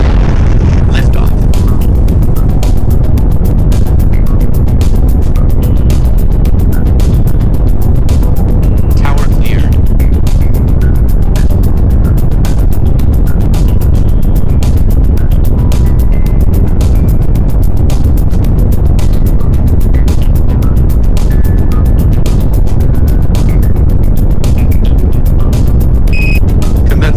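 Rocket engine roaring continuously through a launch on the lunarist mission 10, a loud, steady broadband rumble with crackling bursts, sustained from start to finish with a voice calling out over it.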